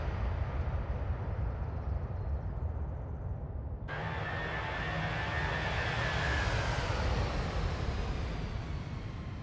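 An Airbus A320 jet airliner roars past in a steady, loud rush of engine noise that brightens abruptly partway through as the aircraft draws nearer, with no voices.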